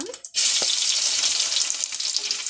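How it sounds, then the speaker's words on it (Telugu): Cumin and garlic dropped into hot oil burst into a loud, close, continuous sizzle that holds steady after a brief initial rustle. "ఇప్పుడు నూనె ఉడకయింది, సాసులు వేసుకుంటా."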